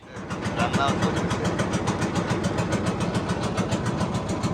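A steady, close diesel trawler boat engine chugs with a rapid, even rhythm throughout on a canal, loud and unbroken after a brief start.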